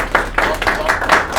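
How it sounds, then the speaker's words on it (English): An audience applauds after an online climate and AI talk, a short burst of close hand claps with a voice over it. "round of applause"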